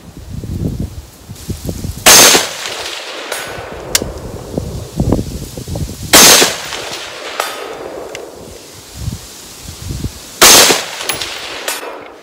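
Three loud, sharp gunshots from a Springfield Hellion 5.56 bullpup rifle firing Remington ammunition outdoors at a 200-yard range, spaced about four seconds apart, with quieter rustling and handling noises between shots.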